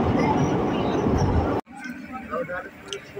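A Katwa–Azimganj local train pulls into Jhamatpur Baharan station with a loud, steady rumble that cuts off abruptly, leaving quieter murmuring voices and platform bustle.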